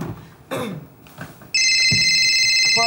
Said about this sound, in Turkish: Pardon Feridun, telefonum çalıyor şu an.